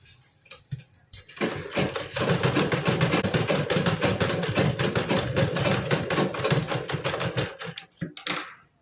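A sewing machine stitches a blouse, running in a steady rapid mechanical chatter for about seven seconds after a short pause, loud and close, then stopping abruptly with a brief restart at the end.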